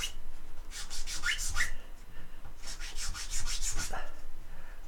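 Rasping strokes of a flat file scraping across wood, two quick bursts of back-and-forth rubbing separated by a short pause, close up.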